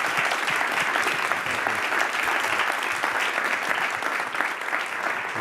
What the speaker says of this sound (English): a big round of applause for Rhiana, Sandino, Hilda, and Evelyn.